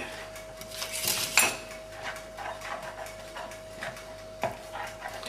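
Egg being stirred into a warm meatloaf mixture in a kitchen bowl, with light clinks and scrapes of a utensil against the bowl, one sharper clatter early on and softer scraping after, close and fairly quiet.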